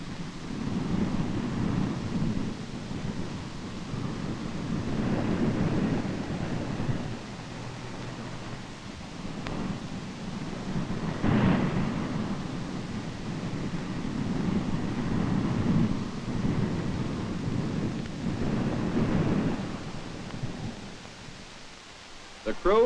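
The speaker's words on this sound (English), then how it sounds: "the seas get higher and higher, and the storm becomes a veritable blizzard" Heavy winter storm on the northern Sea of Japan, with a dense, continuous roar of wind and crashing high waves buffeting a ship, loud and steady throughout with surging swells every few seconds.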